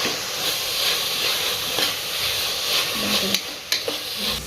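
Mint and chopped coriander leaves being stirred in a hot pan for egg biryani, giving a steady sizzling hiss with soft scraping strokes and a few sharper clinks near the end, close and alone.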